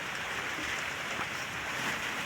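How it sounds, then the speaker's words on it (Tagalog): Steady rain falls outdoors near a boat during a day of gathering rice, a continuous broad hiss with no pauses. "Umulan na."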